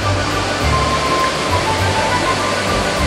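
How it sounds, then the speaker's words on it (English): Waterfall at Caserta in Italy roars as a steady, dense rush of falling water, continuous and loud without breaks. "Then I'll come back and get that waterfall again."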